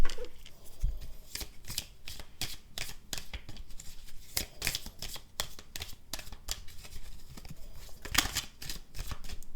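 Tarot cards being shuffled by hand, a long run of crisp riffling bursts and soft slaps repeating in an uneven rhythm, close and clear with no talk over them.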